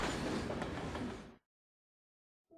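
A train rumbles along railroad tracks with a dense rolling clatter that cuts off abruptly after about a second and a half, leaving silence before a faint tone returns.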